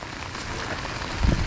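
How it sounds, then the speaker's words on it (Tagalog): Heavy rain pouring down in a sudden downpour during a cucumber harvest, a dense, steady hiss of drops hitting surfaces, close and loud throughout, with a brief thump near the end. "Bigla po ang busang ulan."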